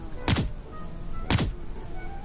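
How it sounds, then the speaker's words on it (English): Suppressed gunshots in the video game Grand Dude Simulator: two muffled, sharp thumps about a second apart over a faint background hiss. "Oh, I got the annoying suppressor sounds."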